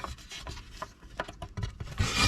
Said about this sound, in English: I just used a little file on the inside of this.